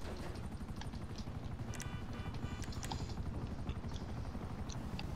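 Helicopter in the video game GTA 5, a steady low rotor chop pulsing throughout at moderate loudness, with a few brief higher game effects over it.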